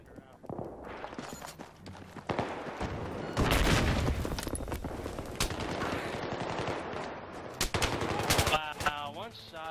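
Battlefield 3 gunfire in a chaotic firefight, with bursts of automatic shots, scattered single cracks and heavy impacts at varying distances, and people talking over the shooting.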